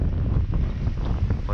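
Strong afternoon wind rumbles against the microphone of a GoPro HERO 7 Silver action camera outdoors, a dense low roar with steady buffeting throughout.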